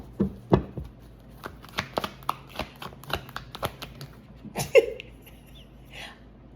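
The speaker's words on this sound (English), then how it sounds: "I'm just shuffling the cards." Tarot cards are shuffled by hand, giving a run of crisp, close riffling snaps and taps in an irregular rhythm, with soft breathing between them.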